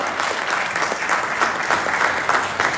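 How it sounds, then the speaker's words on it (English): Dense, steady clapping from an audience at a live awards ceremony in Lagos, sustained without a break at an even level. "A round of applause,"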